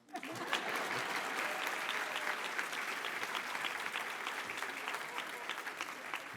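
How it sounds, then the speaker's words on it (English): Students and guests at a dual enrollment recognition ceremony give themselves a round of applause, a sudden burst of many hands clapping with distinct sharp claps, holding steady for several seconds without speech. "give yourselves a round of applause"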